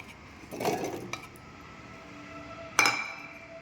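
Apple pieces for a milkshake dropping into a glass: a cluster of soft clinks near the start, a lighter tap shortly after, then one sharper clink later, close and fairly quiet.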